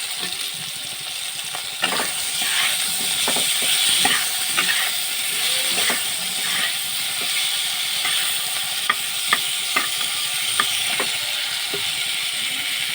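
Pickle sizzles in hot oil in a cooking pan. Steady frying hiss runs throughout, broken by repeated clicking scrapes of a spoon stirring, with no talk.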